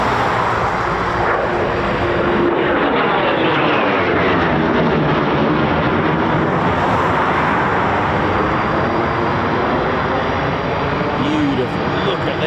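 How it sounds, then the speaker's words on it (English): A Eurofighter Typhoon FGR4 jet flies in the airfield circuit at an RAF station, a loud, sustained roar filling the whole clip with a Doppler-like sweep in pitch, while a person talks over it. "I know there's a Typhoon in the circuit"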